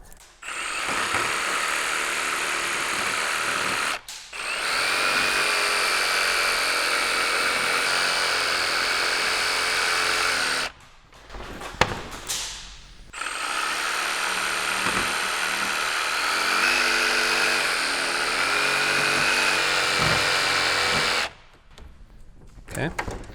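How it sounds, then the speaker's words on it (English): A jigsaw cuts through a flooring plank in long, steady buzzing runs with a high whine, separated by short pauses between cuts. "I'm going to show you how to do it with the jigsaw"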